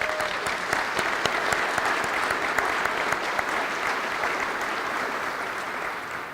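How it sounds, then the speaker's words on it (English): An audience applauds at a forum in the Texas Capitol in Austin, a steady patter of many hands with a few sharper claps, moderately loud and then slowly tapering. "And let's give him another round of applause."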